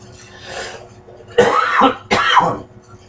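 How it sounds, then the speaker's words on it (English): Two sharp, harsh coughs close by, a brief gap between them, after a moment of quiet breathy sound; no talking. "I turned away and coughed into my sleeve."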